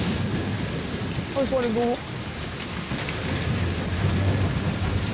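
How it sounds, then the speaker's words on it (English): Heavy, constant rain pouring down on a wild island in stormy weather, a dense steady hiss close by, while a voice speaks briefly over it. "It's just constantly fucking raining."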